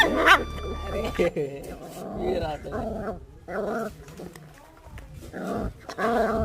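A puppy gives yelps, whimpers and low growls in a quick, uneven run, close and fairly loud, with brief bursts of voice mixed in.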